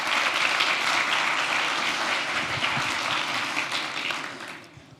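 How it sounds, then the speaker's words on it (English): Audience applause for a presenter at a university lecture on human augmentation technologies in Eindhoven, a dense, steady clapping of a large crowd that holds loud and even before fading out at the end. "a round of applause for Sam"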